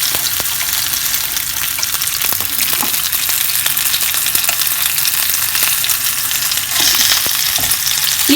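Steady, dense sizzling of chicken kebabs frying in hot oil, continuous and close, with occasional louder crackles and pops and no voices.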